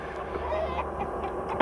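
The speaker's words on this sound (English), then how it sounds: "that chicken that kept clucking through it" A chicken clucking in soft, scattered bursts at moderate distance over a steady room murmur, ending in a louder squawk.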